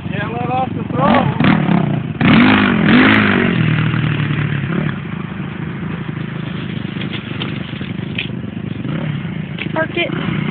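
A dirt bike engine revs hard close by, climbing and holding at a high throttle before settling into a rough, clattering run, with people talking over it.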